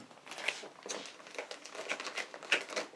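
Small plastic packets being opened by hand, soft crinkling and crackling in irregular bursts, close and quiet, with faint rustles between.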